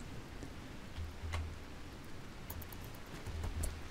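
Rain falls in RimWorld, a soft, steady patter of drops with faint ticks and rustles, quiet and continuous, with no talking.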